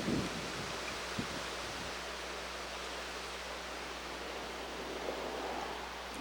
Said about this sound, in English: The wind's blowing awful hard today